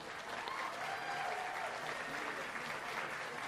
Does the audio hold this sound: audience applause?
yes